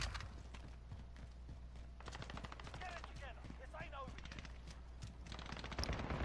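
Rapid gunfire from a first-person shooter video game, quick-scope sniping matches, crackling in dense bursts throughout, with game sounds layered beneath a talking voice.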